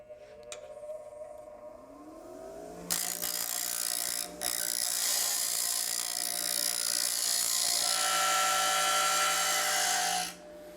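A steel chisel meets the coarse wheel of a bench grinder, the motor's hum giving way to a loud, sustained rasping grind that runs for several seconds close by before cutting off.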